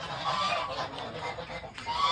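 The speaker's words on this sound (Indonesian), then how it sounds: "Kena amarahan para angsa." Several geese honk angrily in a dense, continuous chorus at close range, loud and agitated with no pauses, at a poultry feeding spot where meat ducks and young chickens are kept.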